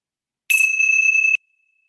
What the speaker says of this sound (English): the ringing of the bells of hope